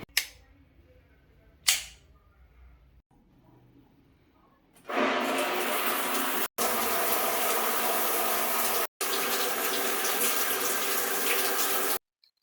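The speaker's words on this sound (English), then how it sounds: "So let me shower quickly, wash my hair." A shower runs while hair is washed. A couple of sharp clicks come first, then the water bursts on into a loud, steady, hissing spray that cuts out briefly a few times before stopping.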